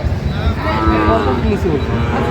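A cow lets out a long, loud moo close by, over the busy hum of a crowded livestock market in Kishoreganj, Bangladesh, where Sahiwal bulls are sold.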